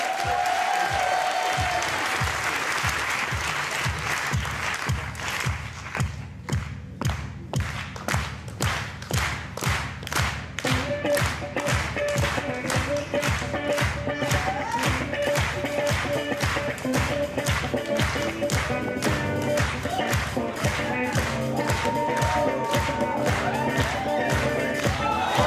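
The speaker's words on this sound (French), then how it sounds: "On peut les applaudir très très fort." An audience at an improv theatre festival applauds the performers, loud clapping that settles into a steady rhythmic beat of hands in unison, thumping on for over twenty seconds, with music joining partway through.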